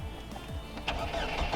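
Pontiac Solstice project car engine cranking briefly and catching, moving into a rough, close mechanical running sound.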